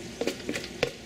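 Gar fish boulettes fry in hot lard, with soft sizzling and a few short stirring scrapes and taps in the pan.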